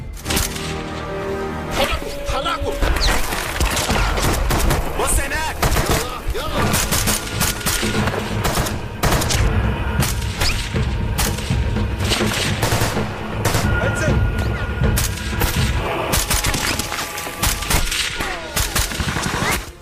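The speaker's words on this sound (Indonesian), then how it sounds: "terjadilah baku tembak yang cukup sengit" An intense action-movie gunfight rages without pause, dense bursts of automatic fire and sharp single shots cracking over a rumbling, explosive soundtrack for the whole stretch.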